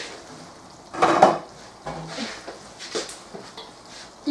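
A lid is lifted off a pot of simmering chicken and mushrooms, giving one clear metallic clatter followed by softer clinks and rustles nearby.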